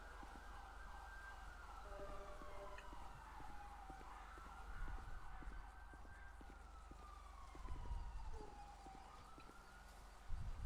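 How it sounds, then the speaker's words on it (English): Faint, distant sirens wailing and rising and falling continuously, with low traffic rumble and occasional bird chirps in the background. "I hear sirens."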